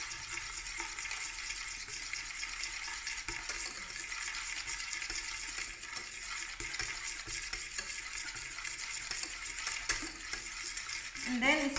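Yogurt is stirred into bread cake batter in a bowl, making a soft, continuous, wet churning and scraping close by, with a louder clatter right at the end.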